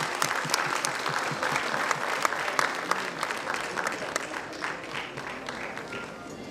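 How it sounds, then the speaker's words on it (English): A crowd at a medical college convocation ceremony claps steadily in warm, sustained applause that gradually tapers off, with no voices standing out. "Can we have a round of applause for them"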